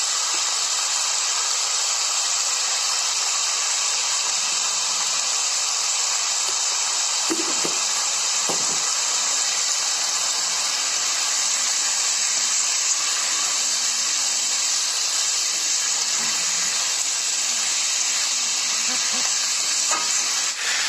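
Meat fries in a pan, making a loud, constant close-up sizzle and hiss. A few brief clinks of a utensil against the pan break through the frying.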